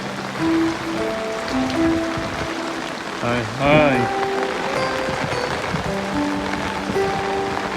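Steady rain hisses and patters throughout in flooded Chittagong, Bangladesh, with voices and tonal sounds mixed over the downpour.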